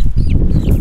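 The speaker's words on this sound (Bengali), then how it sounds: "মিনাস একটা মুরগি বের করো তো" A chicken clucks and squawks briefly as it is lifted from the flock for a Gumboro vaccine, with a steady low rumble of handling and background noise beneath.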